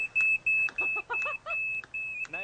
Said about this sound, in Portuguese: Ele modificou um detector de fumaça para servir de alarme.